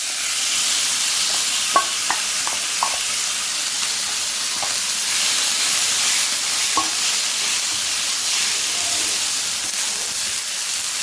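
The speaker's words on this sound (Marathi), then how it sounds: "आता आपण हा बटाटा पण हा धुवून घेतलेला आहे हा घालत आहोत" Washed potatoes fry in a pan for Marathi potato kharda, giving a loud, steady sizzle and hiss throughout with a few faint clinks of stirring near the start.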